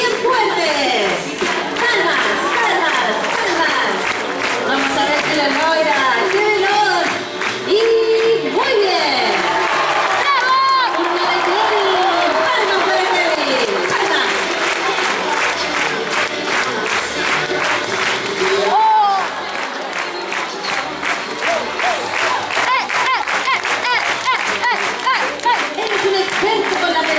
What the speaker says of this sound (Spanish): ¡Y vamos con las palmas bien fuertes!